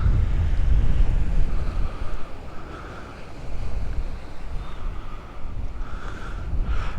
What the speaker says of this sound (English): Man, that sea is rough, isn't it?